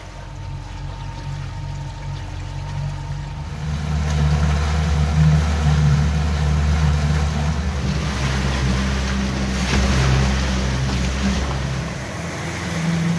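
A 16-foot fishing boat's outboard motor drones steadily across open water toward Isle Royale, with wind and the rush of water and waves swelling louder midway, no talk.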